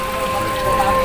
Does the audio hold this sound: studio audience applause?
no